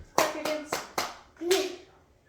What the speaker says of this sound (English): Adam, clap your hands.